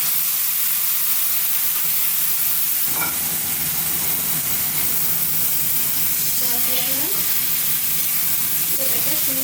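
Dry red chillies, cumin, poppy seeds and white mustard seeds fry loudly in hot oil in a pan, a steady close sizzle with occasional stirring scrapes throughout.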